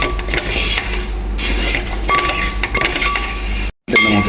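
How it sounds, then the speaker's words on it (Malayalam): Flattened rice (aval) is stirred in ghee in a pan, giving continuous scraping and light clinks of a spoon against the metal over a steady low sizzle. It is close and busy, with a brief silent gap near the end. "നെയ്യിലൊന്ന് മിക്സ് ചെയ്തെടുക്കാം."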